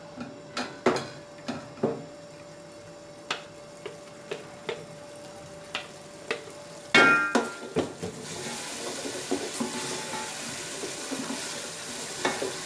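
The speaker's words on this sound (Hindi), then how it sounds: "ये तमाम जो पेस्ट है अब इसमें शामिल कर देंगे ऑयल में" Spice paste goes into hot oil for desi chicken curry: a few sharp stirring taps and clinks come first, then a loud, close, continuous sizzle that bursts up and keeps hissing.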